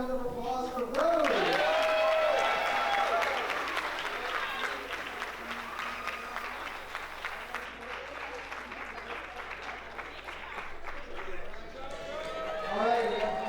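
Guests at a wedding reception break into sustained, close clapping after a voice opens the clip. Talking carries over the applause, which stays steady and fairly loud before a speaker's voice returns at the end.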